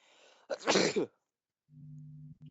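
A single loud sneeze bursts out after a brief quieter stretch, followed by a low steady hum.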